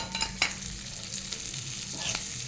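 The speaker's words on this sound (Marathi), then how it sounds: "मसाला छान परतून घ्यायचा आहे." Spice masala sautés and is stirred in an iron wok, a soft steady sizzle with a couple of sharp scraping clicks from the spoon, fairly quiet and close, no talking.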